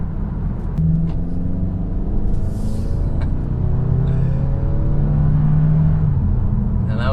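A 2019 Toyota Camry XSE four-cylinder engine pulls under acceleration from inside the cabin, a loud steady drone rising in pitch with a shift partway through over constant road rumble.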